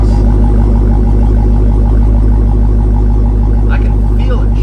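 Deep, steady idle burble from the tailpipes of a 2018 Dodge Challenger SRT Demon, heard loud and close, with a voice briefly speaking near the end.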